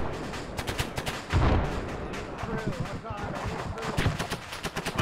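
Gunfire in the military video game ArmA 3 during a night mission to clear a town, with rapid bursts and a heavy blast rattling close and loud while voices talk over it.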